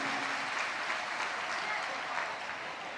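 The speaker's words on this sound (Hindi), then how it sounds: "एक बार जोरदार ताली बजाकर स्वागत वंदन अभिनंदन है" Crowd applause at a Shiv Mahapuran religious discourse, where the audience welcomes Yogi ji with loud, dense, continuous clapping that holds steady throughout.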